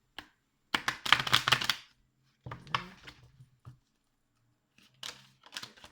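Tarot cards being shuffled by hand, in short bursts of riffling and shuffling separated by quiet gaps, close and fairly soft.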